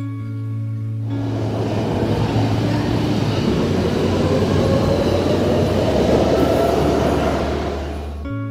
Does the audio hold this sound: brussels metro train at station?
yes